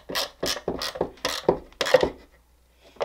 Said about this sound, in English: So I'm just going to use my wrench here, tighten it up.